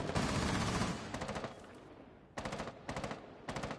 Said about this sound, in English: Bullets are going off everywhere.